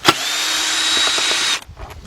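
A power tool drives a T30 socket on the starter bolts of a BMW, one steady close whine lasting about a second and a half before it cuts off into quiet handling noise.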